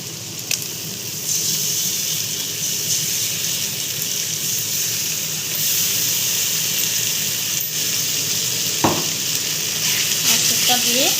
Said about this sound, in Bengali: মশলাটা দিয়ে ভালো করে কষাবো।